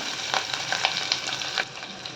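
Onion pieces, green chilies and curry leaves crackle in hot oil with a tempering of spices, producing an even sizzle dotted with quick pops and spits, close and fairly loud, without voices.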